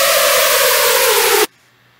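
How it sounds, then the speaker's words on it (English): A reversed sample played back in FL Studio, a loud, hissy swelling wash that ends abruptly in near silence after about a second and a half. "And this is how easy it is to reverse a sample"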